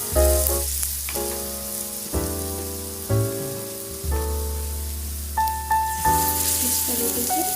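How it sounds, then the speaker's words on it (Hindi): Coated paneer shallow-frying in hot oil for chilli paneer: a steady, close sizzle runs throughout beneath prominent background music. "उन पनीर को सैलो फ्राई करेंगे"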